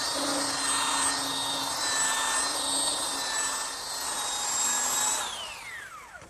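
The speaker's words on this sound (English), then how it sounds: "now I'm using my belt sander to remove any of the imperfections left by the saw blade" A belt sander whines loudly and steadily across a wooden pencil post bed post, holding a constant high motor tone for about five seconds before it switches off and the pitch winds down.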